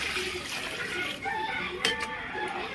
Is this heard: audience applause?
no